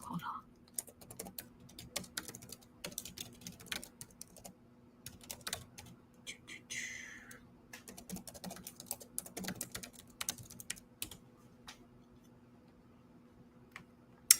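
Rapid bursts of typing on a computer keyboard during an online webinar, with clusters of close, crisp key clicks and brief pauses between them, spread across the whole stretch.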